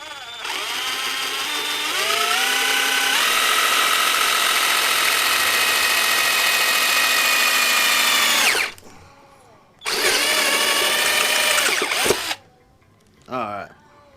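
A power drill bores a guide hole into a carbon fiber exhaust, whining loudly and steadily for several seconds, then stopping and starting again in shorter bursts with brief pauses between.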